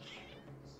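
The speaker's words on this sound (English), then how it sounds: "Your cats seem pretty worked up." Cats meow in a Genshin Impact game scene, a brief high-pitched mewing over a steady low game background hum.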